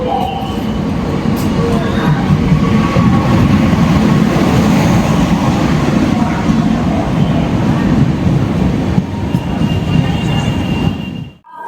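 The Antyodaya Express, train 20691 running overnight from Tambaram to Nagercoil, gives a loud, continuous rumble of wheels and carriages on the rails with faint squeals, heard from on board before it cuts off abruptly.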